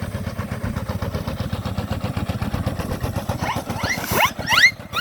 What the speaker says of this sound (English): Another lovely traction engine here.